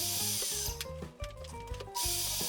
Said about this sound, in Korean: 먼저 모니터 프레임을 제거한 후 사이즈에 맞게 나무 틀을 재단합니다.